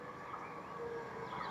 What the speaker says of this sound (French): Un train qui arrive à l'horizon